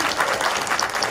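A crowd at a mecha figure and toy exhibition event claps together, a brief, even burst of many hands applauding at moderate loudness with no voices on top.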